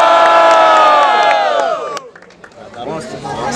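A loud crowd at a Brazilian student rap battle cheers and shouts in a big sustained roar that fades after about two seconds into scattered whoops and voices.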